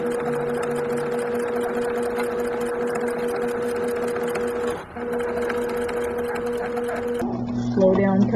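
A sewing machine stitches fabric around the curve of a fitted face mask, a steady close mechanical whir with a constant tonal hum that dips briefly midway and then changes and winds down near the end.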